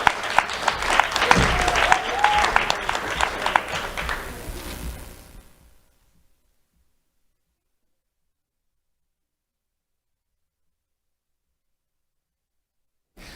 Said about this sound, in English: Let's have a round of applause for Justin Jordan.